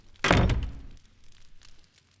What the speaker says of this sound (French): Le petit chaperon rouge tira la chevillette et la porte s'ouvrit.